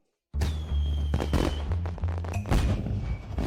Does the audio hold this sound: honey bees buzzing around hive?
no